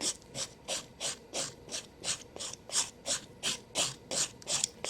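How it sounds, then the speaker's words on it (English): A nail file works over a cured bead of odorless Nailite monomer acrylic on a nail. Each stroke gives a quiet, close raspy scrape, about a dozen in a steady back-and-forth rhythm, with no one talking. "Now, when I file this, it seems like that tacky layer will roll up, but it files off"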